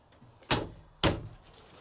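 Two quick sliding closet doors in a 2027 Rockwood Signature R372RL fifth wheel RV roll and bump shut about half a second apart, close and clear in a quiet interior.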